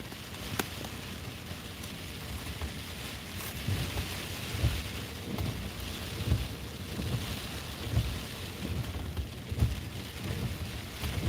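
Rain falls steadily during a waterspout storm chase, a dense hiss with soft, irregular low thumps underneath, heard without any talking.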